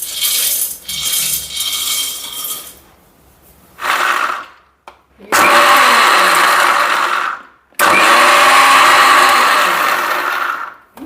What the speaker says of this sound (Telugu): ఇప్పుడు మిక్సీ జార్ తీసుకొని ఈ వేపుకున్న పల్లీల్ని కొద్దిగా బరగ్గా గ్రైండ్ చేసుకుందాం